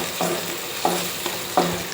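Sliced onion with cinnamon stick and cloves stirred in a hot pan for chicken curry, three distinct scraping strokes over a steady frying sizzle, close and fairly loud, no talking.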